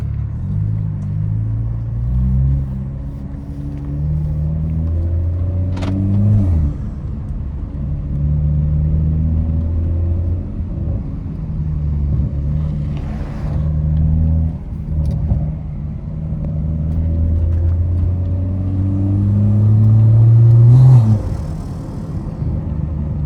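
BMW B58 engine picked up at a front-mount intake while the car drives, a steady deep drone with surges under throttle, loud and close and alone throughout, with a louder pull near the end.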